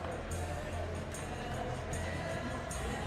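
Stadium crowd noise in PES 2021 during a Manchester City vs Newcastle United cup semi-final at night: a dense, steady roar of a large crowd, loud and continuous throughout with no clear breaks.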